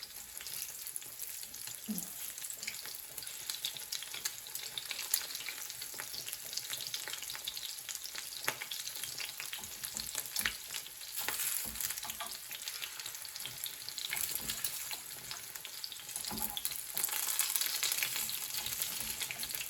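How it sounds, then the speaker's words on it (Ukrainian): Pieces of liver fry in a pan until golden, giving a continuous close crackling sizzle of hot oil with occasional scrapes from stirring and no talk. "Кожний кусочок ми обжарюємо до такого золотистого кольору, не пережарюємо."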